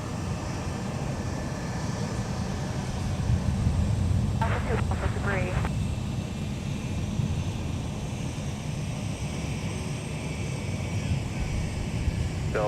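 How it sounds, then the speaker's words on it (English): A Delta Boeing 757-300 takes off at Minneapolis–Saint Paul airport, a steady broad engine roar holding loud and constant throughout, with a few brief higher chirps partway through. "Here's Delta 2809 headed off to San Francisco with the Boeing"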